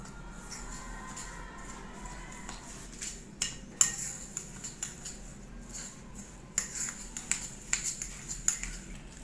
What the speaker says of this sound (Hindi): सारी चीज़ों को अच्छे से मिक्स कर लेंगे